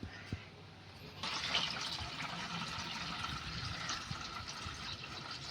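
Well water poured into a container for a betta fighter fish breeding setup, a steady liquid rush that starts about a second in and continues evenly to the end, fairly faint.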